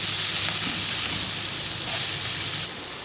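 Chicken and carrots fry with spices in a pan, a steady, close hiss of sizzling that carries on without a break and drops a little in level near the end.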